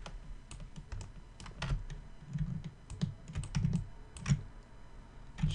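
Keys clack on a computer keyboard as shortcut combinations are pressed while working in Maya, a series of quick separate taps and short clusters at close range, no voice over them.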